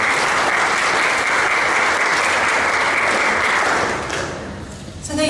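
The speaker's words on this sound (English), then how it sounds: "Give him a round of applause." Sustained, dense audience applause fills a meeting hall, holding steady for about four seconds before thinning and fading as a few scattered claps trail off.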